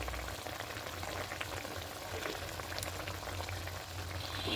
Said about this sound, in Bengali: জলটা ফুটতে শুরু করেছি